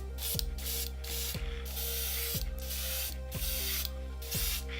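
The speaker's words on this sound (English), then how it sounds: "Just try to get paint to come out of the airbrush." A dual-action airbrush sprays paint in short bursts, each a hissing puff of air with a click as the trigger is pressed, repeating about five times at close range.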